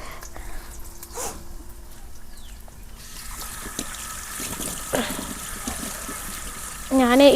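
Tap water runs over a burned hand during crab curry cooking, a faint trickling and splashing that swells near the end, with a voice heard at moments.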